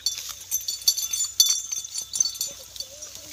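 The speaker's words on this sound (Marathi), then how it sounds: "ही नवी शेळी आणली आम्ही आज" A goat doe and her two young billy goats bleat in short, repeated calls at close range, with faint clinks in between.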